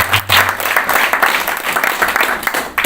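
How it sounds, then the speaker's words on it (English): A round of applause at a Kenyan short film screening event, loud and close, with uneven bursts of clapping from a crowd for about three seconds. "Let's give an round of applause."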